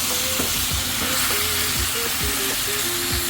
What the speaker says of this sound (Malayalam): ഇനി നമുക്ക് ഇളക്കി മിക്സ് ചെയ്തിട്ട് നമുക്ക് ആ മാരിനേറ്റ് ചെയ്ത ചിക്കൻ ഇട്ട് കൊടുക്കാം.